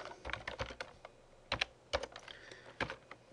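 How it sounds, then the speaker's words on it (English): Fingers typing on a computer keyboard, a few quiet bursts of clicky keystrokes separated by short pauses, close but faint. "You just type help and then type math."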